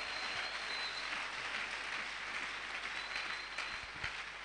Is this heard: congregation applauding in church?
yes